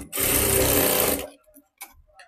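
A sewing machine stitches a strip onto a full-sleeve tucked blouse in one loud, steady burst lasting about a second. It then stops abruptly, followed by a couple of faint clicks.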